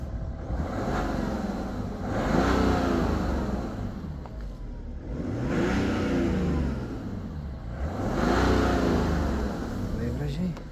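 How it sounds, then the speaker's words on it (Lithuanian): The 2012 BMW 640d Gran Coupe Individual runs close by after sitting unused for about a month. Its engine rises and falls in three slow, smooth revs over a steady idle. "Variklis dirba."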